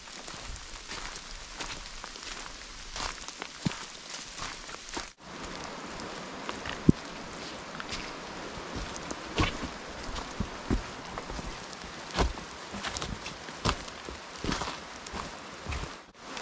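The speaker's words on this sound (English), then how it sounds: "Check it out, rain's coming down, which is pretty ugly" Heavy rain falls steadily on a hiking trail, a dense hiss of drops broken by sharp close taps and crunching footsteps as someone walks through the downpour.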